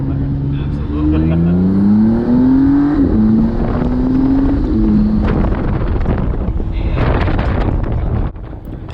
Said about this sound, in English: The exhaust note isn't nearly as bad as I thought it might be